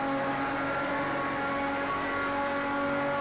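A race car engine, the M512M in Project CARS 2's Spirit of Le Mans content, screams at high revs as a continuous, steady, loud whining drone with no pause.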